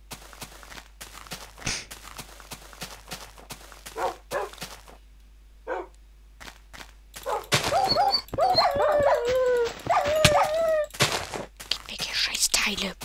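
Dogs in Minecraft bark, whimper and howl in a cluster of sharp calls and rising wails that grows busier in the second half, mixed with footsteps and quiet speech.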